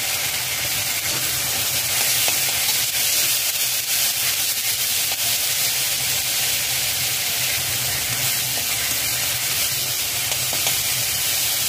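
Onion paste fries in a pan while it is stirred. A constant dense sizzle runs throughout, overlaid with soft scraping from the stirring.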